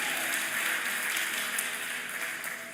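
A conference audience applauds steadily for about three seconds, a fairly quiet, even wash of many hands clapping together with no voice standing out.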